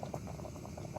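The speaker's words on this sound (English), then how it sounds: "It's been boiling for ages." A pot boils on a stove while car camping, holding a steady, even bubbling roar with small repeated pops, close and continuous with no talking.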